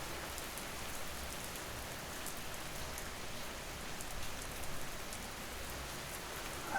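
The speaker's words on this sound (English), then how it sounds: "The rain outside continues, steady and soft" Steady, soft rain falls outside a house at night, an even wash of drops pattering continuously without a break, with no voices and only faint swells in intensity.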